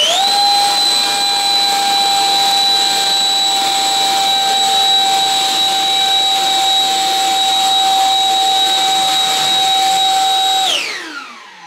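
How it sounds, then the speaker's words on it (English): An electric ducted fan on the FF-117V2 model jet, powered by a fully charged battery, spools up in a thrust test and holds a loud, steady high-pitched whine for about ten seconds before winding down at the end. "let's run up the EDF with the fully charged battery and see what happens"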